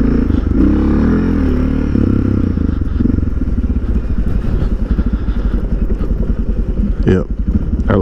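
A Suzuki DR650 dual-sport motorcycle fitted with an FMF aftermarket exhaust is ridden, its loud, close single-cylinder thump pulsing steadily with some rumbling variation and mechanical clatter over wind.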